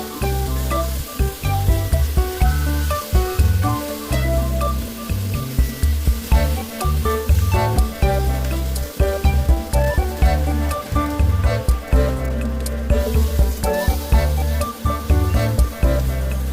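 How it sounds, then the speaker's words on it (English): Eggs fry sunny side up in a multifunction frying pan, cooking with a continuous sizzle under rhythmic background music for the whole stretch. "Break eggs into the pan."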